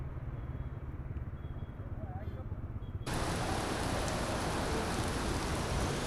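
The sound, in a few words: heavy rain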